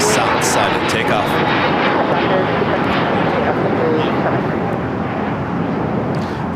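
A jet aircraft at Los Angeles LAX airport, an All Nippon Airways Boeing 787-9 Dreamliner among the traffic, gives a steady, loud broadband roar throughout, with a voice talking over it.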